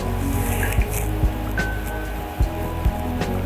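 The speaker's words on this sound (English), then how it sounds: "now we're going to take some olive oil" Olive oil is poured into a pan for peri peri chicken pasta, heard as a handful of short, close drips and soft liquid plops spaced unevenly over a steady kitchen background.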